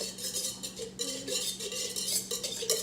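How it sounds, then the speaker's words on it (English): Ingredients and butter being whisked in a bowl with a utensil, a quiet continuous rhythmic clinking and scraping with no voices. "So next, we are going to whisk it all together."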